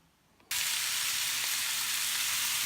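Omelette eggs poured into a hot frying pan during keto meal prep, bursting into a loud, steady sizzle after a half-second of quiet and holding it without a break.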